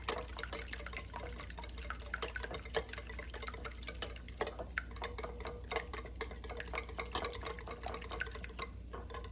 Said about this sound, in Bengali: ডিমটাকে ভালো করে ফেটিয়ে নিতে হবে।